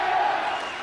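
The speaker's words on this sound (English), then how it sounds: "And plenty of voice now from the crowd." A football crowd roars during a corner kick for Crusaders, a steady sustained wash of voices and shouting from the stands, full and continuous across the brief moment.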